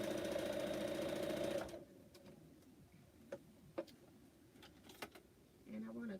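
A sewing machine stitching pineapple quilt blocks runs in a steady close whir for under two seconds, then stops, leaving faint clicks and handling noises with a brief low voice near the end.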